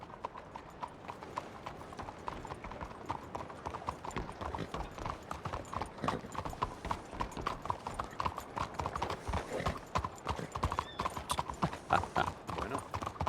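Horse hooves clip-clop steadily in a western roleplay video game, a continuous run of even, moderately close hoofbeats throughout.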